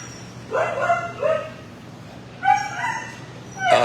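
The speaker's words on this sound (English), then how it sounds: "So, young dogs, AD02, Thomas, Lester, and Lorelei" Young shelter dogs giving short yips, whimpers and barks in a few separate bursts, fairly close, with quiet pauses between them.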